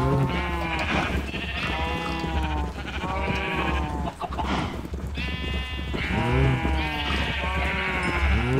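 Several Minecraft cows moo repeatedly, overlapping calls rising and falling in quick succession, close by and fairly loud.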